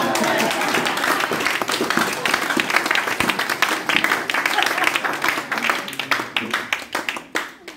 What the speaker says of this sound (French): Non, acclamons la femme de Pierre.